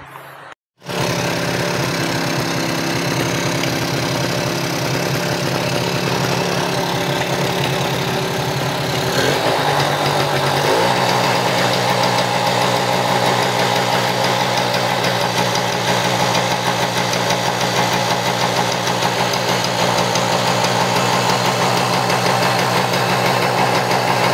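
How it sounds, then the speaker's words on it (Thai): A Chevrolet Nova engine with a stuck high idle starts up and then idles steadily at a high, raised speed, a loud, continuous hum with no talking. "รอบเครื่องค้างจริงไหม"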